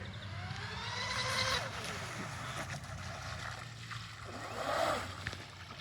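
A 24-inch hybrid stepped-hull RC boat on its first run races across open water, its high motor whine rising and falling with two louder passes, mixed with water hiss, wind and faint voices in the background.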